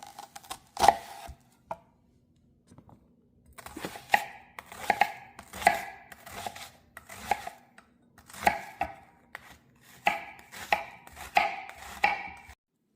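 A knife chops onions on a board for a Karnataka-style bisibelebath, with sharp, close taps coming in irregular bursts and short pauses between runs of cuts.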